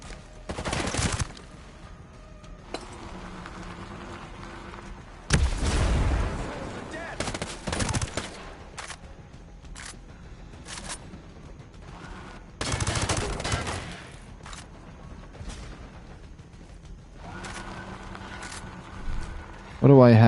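Gunfire in the video game Ghost Recon, with several separate loud bursts of shots spread across the span and quieter gaps between them, and a voice talking in between.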